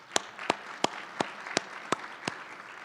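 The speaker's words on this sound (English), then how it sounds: "Let's give them a round of applause." Sparse, evenly spaced claps ring out about seven times over a few seconds, each a sharp, distinct smack, from the audience at the South Carolina School Boards Association 2020 Delegate Assembly.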